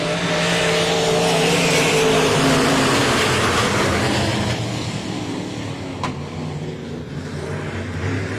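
Dwarf race cars at a Texas raceway roar as the field takes the green flag, a loud, dense blend of revving engines building and then easing slightly, with a sharp brief squeal late on.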